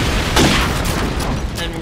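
AK rifle fire in a Call of Duty 4 ProMod match, a loud, close volley of rapid shots packed densely into under two seconds.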